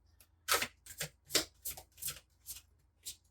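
Playing cards being shuffled in a series of crisp riffling bursts, close and fairly quiet, with short pauses between them.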